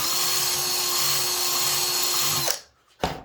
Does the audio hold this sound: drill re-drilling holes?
yes